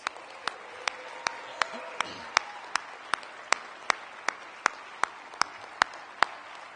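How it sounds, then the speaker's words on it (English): Slow, evenly spaced claps ring out one after another for staff at a dealer awards ceremony, sharp and distinct against a faint room hum rather than a full crowd ovation. "I would just love to give them a round of applause."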